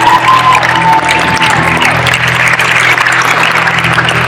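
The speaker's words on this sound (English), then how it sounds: "so give them a big round of applause." Loud applause mixed with cheering from a talent show audience, a continuous wash of clapping and crowd noise over a low musical hum, with no speech on top.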